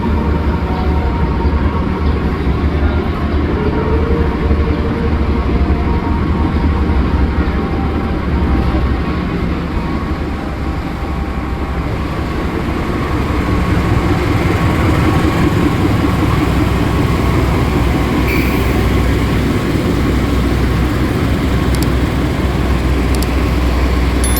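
Argo Semeru express from Surabaya Gubeng to Gambir passing through Kroya station, a long loud continuous rumble of the train rolling by.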